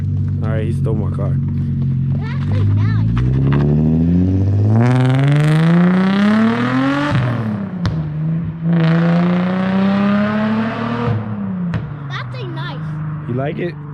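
Drift car fitted with a full ISR exhaust, revving hard twice in long rising pulls with a deep, loud tone close by, idling between revs as people talk.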